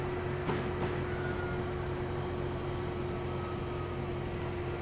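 An Amtrak Acela Express train runs in Train Simulator 2015 on the New York to New Haven line, a steady low rumble with a constant tonal whine from the cab and no talk.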